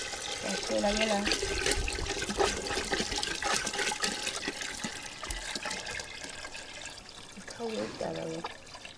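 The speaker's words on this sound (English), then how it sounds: "pour the water" Water poured out of a container onto a fire in rural Swaziland, a steady splashing, trickling pour that runs for several seconds, with brief voices over it.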